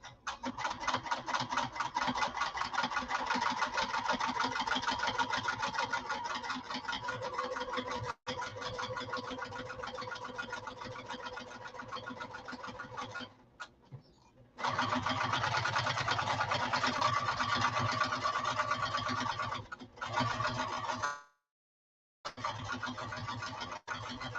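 A sewing machine runs steadily at close range with a fast mechanical chatter, stopping briefly a few times before starting again.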